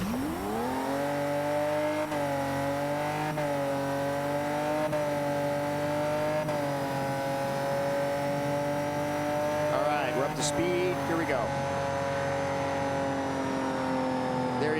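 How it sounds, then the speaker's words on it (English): A race car engine drones steadily at high revs through a turn on a track, a loud sustained tone that dips and strains. It rises briefly near the end with a short squeal. Someone speaks briefly over it. "You can hear how the engine's struggling"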